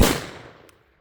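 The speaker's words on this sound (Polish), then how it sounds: "Bierzcie petardy." A single sharp bang of a firecracker on New Year's Eve, loud and close, with a short fading echo.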